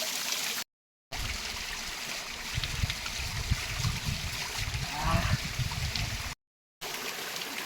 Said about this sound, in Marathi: पाणी जे वरून येतं ते वर्षाच्या 12ही महिने वाहत असतं